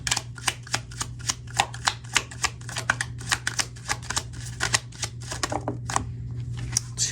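Tarot cards shuffled by hand in a rapid, even riffle of crisp flicks, close and fairly loud, over a faint steady hum.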